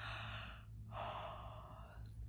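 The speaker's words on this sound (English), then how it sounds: "Can you yawn?" A long, breathy yawn is drawn in and let out during a bedtime sing-along. It is heard close and alone over a low background hum, with a short pause splitting the inhale from the drawn-out exhale.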